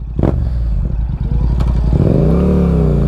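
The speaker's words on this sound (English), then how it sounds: "I'm really stoked that I got this bike with this Acro exhaust on it." A 2024 Yamaha MT-07 motorcycle with an aftermarket Akrapovič exhaust revs loudly up close, a deep throaty exhaust rising in pitch with some clattering at the start.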